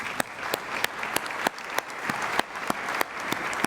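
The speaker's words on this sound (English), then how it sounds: "Let's give them a round of applause." An audience at a keynote address by Governor Rick Snyder breaks into applause, a full room of clapping with a few sharp, evenly spaced louder claps standing out near the front.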